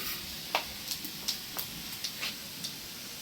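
Dried red chilies and cumin seeds fry as a tempering in a pan, giving sparse, faint crackles and pops at irregular intervals over a low, steady hiss.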